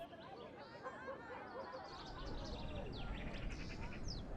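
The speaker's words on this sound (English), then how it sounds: "To hear the birds chirping," Birds chirp in a grand desert city in Mount & Blade II: Bannerlord, giving faint, quick tweets that come in over a low ambient wash and grow more frequent in the second half.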